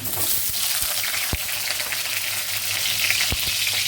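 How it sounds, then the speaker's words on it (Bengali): Potatoes frying in oil in a pan on a stove give off a steady, close sizzling hiss throughout, with a few soft knocks from the cookware. "আলুগুলো ভেজে নিচ্ছি আগে আলু ভেজে নিই"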